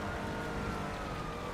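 Police car sirens in the video game GTA Online wail steadily throughout, blended into a dense, continuous wash of engine and game noise at moderate loudness.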